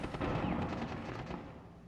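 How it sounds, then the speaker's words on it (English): Gunfire in a shooter video game, a dense burst of loud, overlapping shots that fills the moment before tailing off slightly. "I'm just shooting random things."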